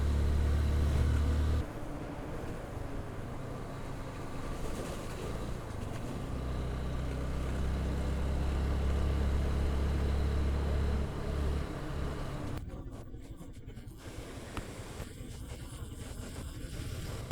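Pickup trucks returning from Sajek pass on a hill road, their engines rumbling and rising as they drive by in a line, heard over steady wind and road noise from a moving motorbike.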